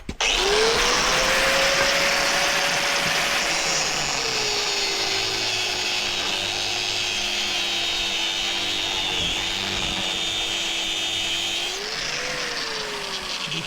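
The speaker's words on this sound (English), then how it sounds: "It's perfectly capable of using a grinder." An angle grinder powered by an EcoFlow DELTA 3 Plus portable power station runs continuously and loud and close, its steady whine dipping slightly under load as it cuts a slot in metal, with no talking.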